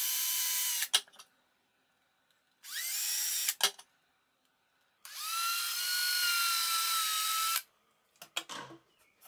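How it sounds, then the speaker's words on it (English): A power drill bores pilot holes into the inside corners of a wooden lamp frame in three separate high-pitched whirring bursts, each several seconds long and close by, separated by pauses and followed by small handling clatter. "I also drill pilot holes in the inside of these corners."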